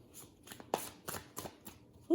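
Miss Cleo's Tarot Power Deck cards shuffled by hand, a run of soft riffling flicks and slaps at an uneven rhythm, close and fairly quiet, with a sharper snap near the end.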